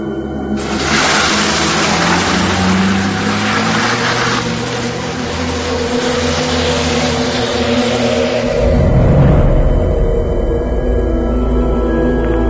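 An angkot minibus pulls away with its engine running steadily throughout, then surges louder near the end as the driver steps on the gas; no talking.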